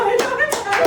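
A few quick hand claps at a family birthday surprise, close and crisp in rapid succession, mixed with voices talking over them.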